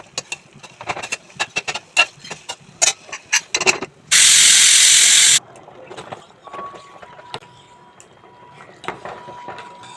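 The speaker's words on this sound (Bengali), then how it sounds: "একটু সিটি মেরে নেবো" A pressure cooker holding water, salt and hinche greens lets out one loud, hissing whistle of steam lasting about a second, surrounded by sharp clatters and knocks of kitchen work.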